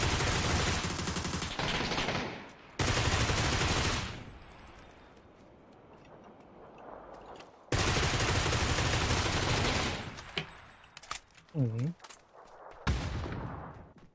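Gunfire in an online shooter, sustained loud bursts broken by quieter stretches, with a voice speaking Chinese over parts of it.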